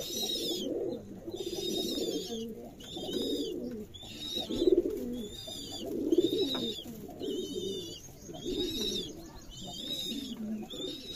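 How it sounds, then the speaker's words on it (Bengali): Domestic pigeons in a loft cooing repeatedly in a steady rolling rhythm, several birds overlapping at close range, with faint chirps above and no talking. "সবগুলাই কবুতর প্রায় ডাকাডাকি করে"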